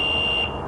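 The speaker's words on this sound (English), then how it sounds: "It just kind of beeps and beeps." An electric pedelec bicycle's controller gives a single steady high-pitched electronic beep when powered from an external battery, close and clear, fading out toward the end.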